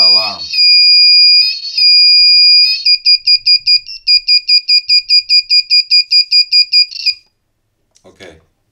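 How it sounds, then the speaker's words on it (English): A simple single-transistor buzzer alarm circuit sounds a few long high-pitched tones, then a fast run of rapid beeps, loud and close, before stopping into near silence with a brief rustle. "making a simple beeping buzzer plus blinking LED"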